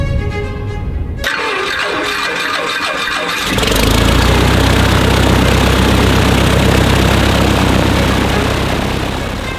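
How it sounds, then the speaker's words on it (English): A Cessna 172 Skyhawk piston engine runs near and loud, rising from a lower throttle setting to a sustained full-power roar for the departure takeoff roll. "Skyhawk is departing runway 5"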